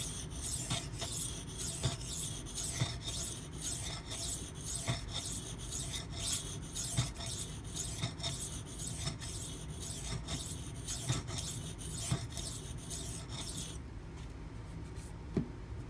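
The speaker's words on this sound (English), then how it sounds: "I did rotate the stone so I get even wear, but also prevents me from having to clean the stone because I am getting some buildup." Steady back-and-forth rasping of a Spyderco Manix 2 knife blade in Maxamet steel being sharpened on a CBN waterstone, continuous rhythmic strokes close up with faint periodic knocks, no talking.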